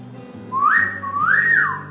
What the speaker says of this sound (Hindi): सीटी बजा सकती हो?